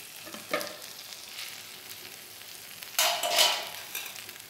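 Marinated chicken tikka sizzles softly on a flat tawa after being flipped, with a brief burst near the start and a louder, brighter sizzle flaring up toward the end.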